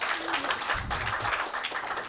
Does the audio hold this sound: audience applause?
yes